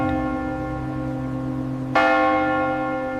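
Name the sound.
church bells ringing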